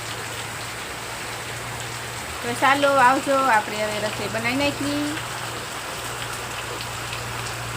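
Village rain falling steadily, a soft continuous patter on surfaces with a low hum beneath, while someone speaks for a few seconds in the middle.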